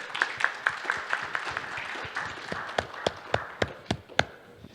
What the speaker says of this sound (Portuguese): a quem eu peço uma salva de palmas aqui